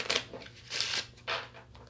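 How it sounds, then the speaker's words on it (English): A deck of playing cards is cut and given a final shuffle, producing three quick riffling, papery bursts close to the microphone with brief pauses between them. "I usually cut the deck and shuffle one last time before I pull."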